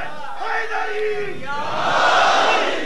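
Crowd at a religious majlis gathering chanting slogans in unison, a loud swelling collective shout with rising and falling voices, filling the hall and growing stronger toward the end.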